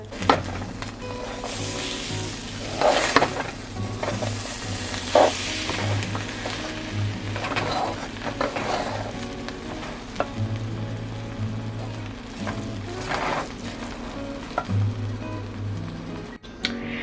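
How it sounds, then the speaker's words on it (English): Jollof rice fries in a pot, a steady sizzle broken by repeated scraping and stirring strokes, heard up close without talk. "Okay, so I'm finally cooking."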